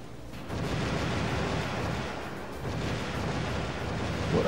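Warship guns firing in the naval combat video game Warship Gunner 2, a dense rumbling barrage of booms and blasts rolling on continuously at fairly loud level, with no talk.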